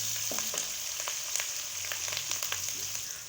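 Fresh curry leaves sizzle and crackle in hot oil for an aloo palak sabzi, a steady close frying hiss broken by sharp pops spread through the moment, with no talk.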